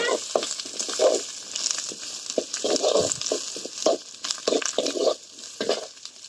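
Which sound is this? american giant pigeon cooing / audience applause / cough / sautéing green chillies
sautéing green chillies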